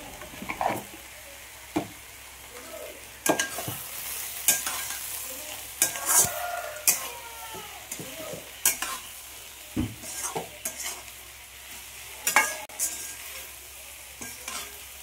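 A spoon stirs a vegetable fry seasoned with salt in a pan, with soft sizzling under intermittent scraping strokes and light clinks, fairly quiet and close.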